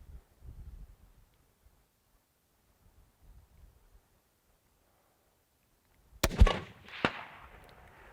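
A single rifle shot cracks from a shooting position, one sharp loud report followed by a brief echo, after a quiet stretch with faint low rustling and a few small shuffling sounds.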